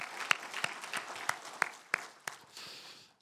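A congregation at a Sunday service at Auckland Sarang Church gives a brief round of applause, many hands clapping together with a few sharper claps standing out, fading off after about three seconds.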